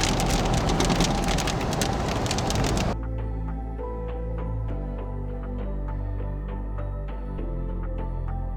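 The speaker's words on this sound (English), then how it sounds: "looks like we got rain" Steady rain patters densely on a surface, loud and continuous, with a rumbling low background throughout, on the Dalton Highway in Alaska.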